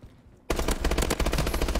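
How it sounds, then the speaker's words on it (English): Dense automatic gunfire in Call of Duty: Advanced Warfare bursts in after a quiet half second, loud and continuous rapid shots through to the end. "Now we're getting shot at from over"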